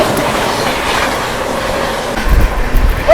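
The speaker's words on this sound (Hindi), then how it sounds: "Banaras New Delhi Shiv Ganga express, overtake Humsafar express" Steady rumble of the Shiv Ganga Express running on the rails, loud and close, with a dense rolling wheel noise and a heavier thump of clatter near the end.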